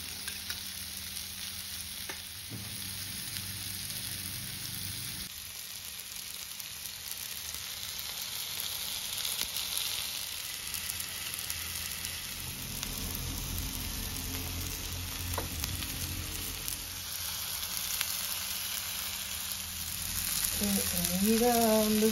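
Mangalore-style fish fries in coconut oil, giving a steady close sizzle and bubbling that swells louder toward the end, with no clear speech.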